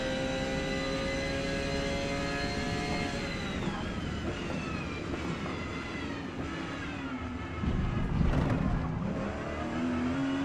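A rear-engined car driven in the Forza Motorsport racing game, its engine a loud, continuous droning whine that holds steady, then shifts pitch through gear changes, with no talking.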